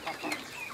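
Chickens cluck on a rural farm in a few short, close bursts, with a faint background that may hold distant voices.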